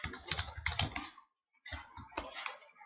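Typing on a computer keyboard while building a form in Microsoft Word, heard as rapid, close clicking keystrokes in two bursts with a brief silent pause between them.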